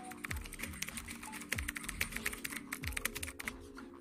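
Text is typed on a keyboard in a steady run of close, crisp key taps with a few heavier thumps, continuing alone without speech.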